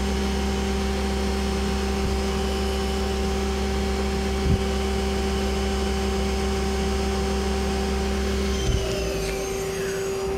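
A new 2010 Mazak Quick Turn Smart 200 CNC lathe spindle spins at 4,000 rpm, giving a steady, loud machine whine with a constant hum. A couple of faint clunks sound near the middle and near the end.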